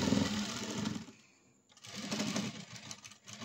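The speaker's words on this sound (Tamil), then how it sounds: "இதேமாரி ஃப்ரண்ட்டு இன்னொரு பக்கத்தையும் ஸ்டிச்சிங் போட்டுக்கோங்க" A sewing machine stitches a blouse with a steady rapid whir. It runs close and loud, pauses for about half a second, then starts up again and keeps running.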